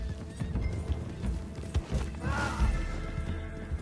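A horse's hooves clip-clop at a steady walking pace in the video game Red Dead Redemption 2, moderately loud, with faint creaks of tack and no voices.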